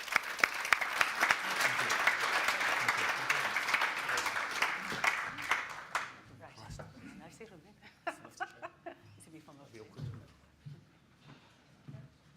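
A university event audience in a hall applauds the panellists with warm, dense clapping for about six seconds, then thins into scattered claps and light laughter as people talk.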